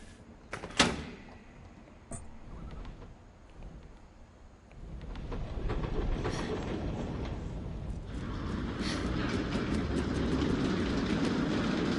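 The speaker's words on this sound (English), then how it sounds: "Why does it sound like a train?" Train rumble in the video game What Remains of Edith Finch: a few clanks and a slam, then a steady low rolling roar building and holding for several seconds.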